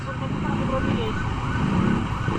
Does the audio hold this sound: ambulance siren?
yes